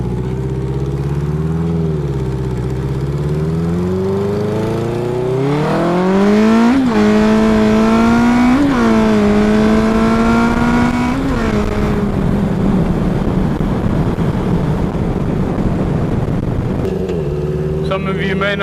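Rebuilt 1980 Honda CB900C motorcycle pulling away in low gear, its engine note rising and falling through a couple of revs before settling into a steady, loud drone with wind rush, close to the rider.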